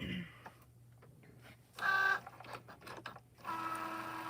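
A Cricut Joy machine measures a card and cuts vinyl, making a low steady hum with mechanical whirring bursts and a brief high electronic tone, while a person talks over it.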